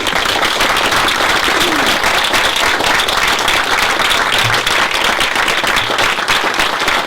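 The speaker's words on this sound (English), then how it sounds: "So let's give a special round of applause." Loud, sustained applause from a lecture audience at a regenerative medicine talk, a thick continuous roar of clapping hands filling the room for several seconds without speech.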